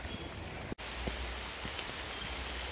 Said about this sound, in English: this rain is really fucking hard